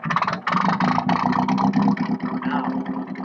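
A car engine running rich revs up and holds at raised speed, heard close, loud and throbbing with a steady rough exhaust note and slight surges.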